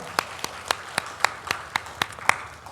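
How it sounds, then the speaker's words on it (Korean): A church congregation at Sunday worship claps to congratulate a family on a birth, about nine sharp, evenly spaced claps ringing in a reverberant hall. "우리 박수로 축복하겠습니다."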